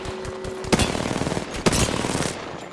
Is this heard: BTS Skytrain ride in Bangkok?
no